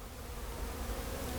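Honey bees flying in and out of a hive entrance, a faint continuous buzzing hum close by with no voices.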